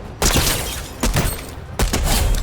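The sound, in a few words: gunfire from video game Fortnite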